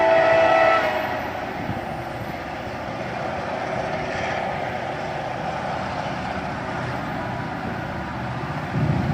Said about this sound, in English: we're in Trenton, Ohio, to catch this local northbound train